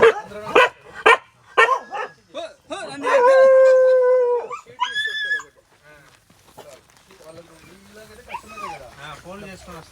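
Watch dogs at a poultry farm near Shamirpet, barking in sharp bursts before one lets out a long, drawn-out howl, followed by quieter yelps and whines, all close by.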